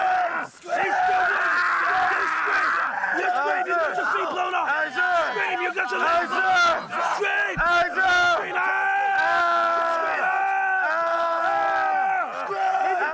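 A crowd of Marine Corps recruits screaming and yelling together in loud, sustained bursts, overlapping shouts filling the whole stretch with barely a pause.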